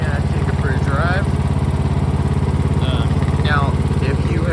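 A riding lawn mower engine drones loudly and steadily as the machine is driven after a spring tune-up, its constant mid-pitched chug running the whole time while someone talks over it.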